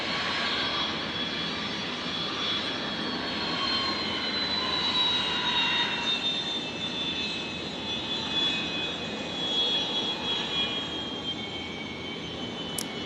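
A Nauru Airlines Boeing 737-300 Classic landing on runway 19 left at Brisbane International Airport at night: a continuous, fairly loud jet engine roar with a high whine that stays steady throughout and carries no talk.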